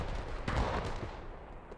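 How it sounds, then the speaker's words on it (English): Distant artillery booms faintly during a video game battle, with one soft, muffled blast standing out above a low, rumbling background. "It's actually hard to tell whose artillery is at this point."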